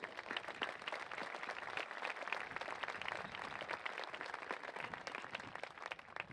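A graduation ceremony audience applauds steadily in a dense, even wash of many hands clapping, heard from a distance and fairly faint, with no talking.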